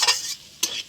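Potato, pointed gourd and egg bhujia scraped and stirred in a frying pan, two short scraping strokes with a soft sizzle between them, close and fairly quiet.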